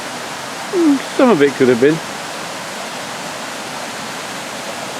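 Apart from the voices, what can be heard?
waterfall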